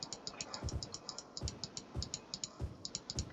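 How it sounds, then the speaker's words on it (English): Mouse clicks from a computer game session of Cities: Skylines: crisp, close clicks in quick irregular bursts with a few duller knocks between them, alone with no talk. "Can you hear me clicking?"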